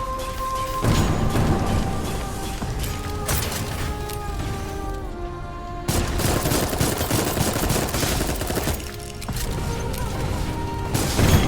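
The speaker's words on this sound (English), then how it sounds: "Try to be careful about getting hit by those missiles as well." Missile barrages and rapid weapon fire in a mech game boss fight, dense crackling volleys and metallic bursts layered over a droning game soundtrack, loud and nearly continuous with brief dips.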